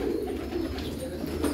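A white Kalanja breed pigeon coos softly and steadily at close range on a farm in Hyderabad, a low continuous murmur over faint background noise.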